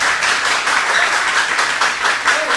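A live school quiz-competition audience applauds steadily for the Lycée Roi Henri Christophe team, a dense, even wash of many hands clapping throughout with no pauses.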